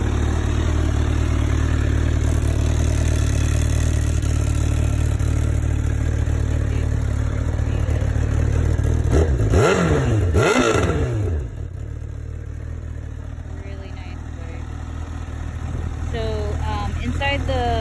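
A 2017 Honda CBR1000RR engine runs close and loud at a steady idle, with a couple of quick throttle blips midway before settling back, and a voice speaks briefly near the end.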